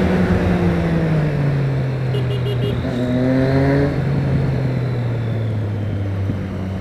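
A truck engine revs up close and loud, its low drone climbing in pitch through successive gears with a shift partway through, a steady mechanical roar throughout.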